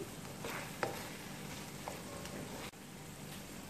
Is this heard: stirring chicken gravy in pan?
yes